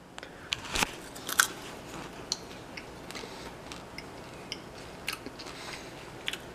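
Freshly made popcorn from a new popper being chewed up close, with irregular crisp crunches and bites, a few sharper cracks among softer chewing, quiet and without talk.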